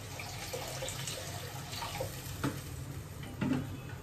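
Water runs steadily into a pot for cooking oats, a soft continuous splashing stream with a few brief louder spatters, fairly quiet and heard alone.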